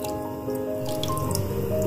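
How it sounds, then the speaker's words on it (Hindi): Water runs steadily into a pot of balti chicken curry, a continuous trickling pour at moderate volume, with no voices. "थोड़ा सा पानी, 1/2 कप के करीब पानी डालकर इसको अच्छी तरह मिक्स करेंगे"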